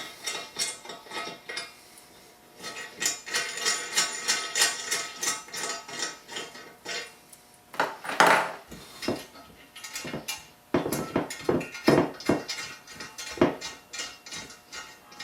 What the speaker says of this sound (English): Just remove the bolts from the rack.